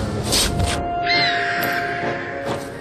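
An animated owl gives a short hooting call over a busy cartoon soundtrack with swooshing effects, fairly loud and close.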